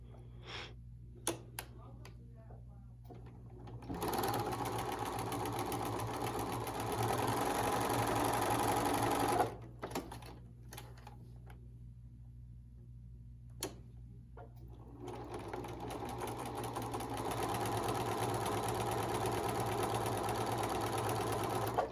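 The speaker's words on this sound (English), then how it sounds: "I'll take that to my sewing machine, and I'm going to sew 1/4 inch on each side" A sewing machine runs in two steady bursts of rapid stitching, separated by a brief pause with light handling noises; close and fairly loud.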